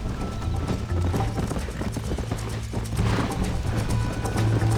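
Rapid rhythmic horse hoofbeats from the video game Red Dead Redemption gallop steadily, clopping loudly and continuously without pause.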